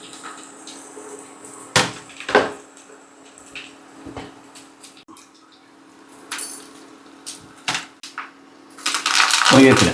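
Mustard seeds and curry leaves splutter in hot oil with sharp, irregular pops and crackles, building into a denser sizzling burst at the end.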